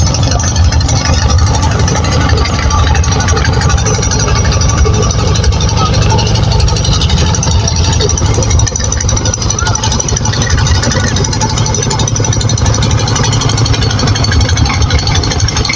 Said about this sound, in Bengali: এই যে কাছাকাছি দিয়ে একটা নৌকা যেতেছে